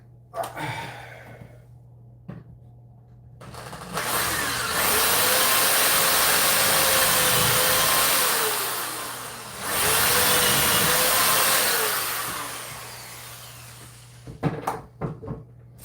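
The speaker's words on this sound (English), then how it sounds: "So, I need to drill these holes out." Power drill drilling out holes, two sustained loud whining runs with a pitch dip as the bit bites, separated by a brief pause, with clicks and handling noise before and after.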